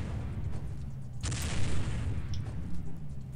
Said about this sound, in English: See, there's explosions all round.